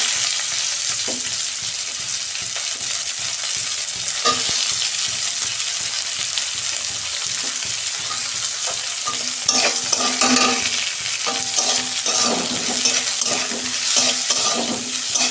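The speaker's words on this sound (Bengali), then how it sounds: "ওই তেলে কালো জিরে ফোড়ন দিচ্ছি, পেঁয়াজ দিচ্ছি" Onions and nigella seeds fry in hot oil as the base of a home-style fish curry, giving a steady, close sizzle with scraping stirs throughout and a busier crackle toward the end.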